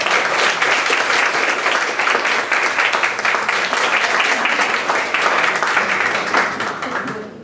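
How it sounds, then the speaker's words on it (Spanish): Loud, sustained audience applause for Teresa Fuller, daughter of Chabuca Granda, at an ICPNA Miraflores cultural event, dense crowd clapping filling the room evenly from start to finish before tapering slightly. "quiero agradecer la presencia de Teresa Fuller, la hija de Chabuca Granda, para quien pido por favor un fuerte aplauso"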